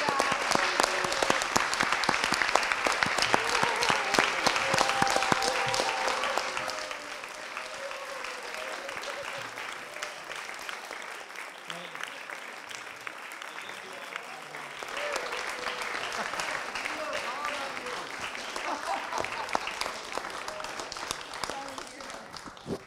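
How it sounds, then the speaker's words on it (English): Sustained applause from an event audience honoring journalist Amy Goodman, loud and dense clapping that dips in intensity midway and then swells again, with a few voices mixed into the crowd. "please join me right now in giving a big round of applause and a huge thank you to Amy Goodman"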